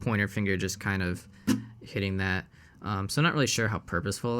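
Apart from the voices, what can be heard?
No distinct noise like a dog, phone or traffic.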